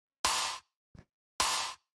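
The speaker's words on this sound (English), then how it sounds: "sort of like an old school drum machine type of sound" Old school drum machine snare sounding alone: two bright, noisy hits with short sustained tails, separated by a faint, brief low click.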